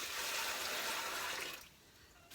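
Hot water poured from a container hauled from the house, rushing steadily into a vessel to soak pellets, then tapering off to a quieter trickle near the end.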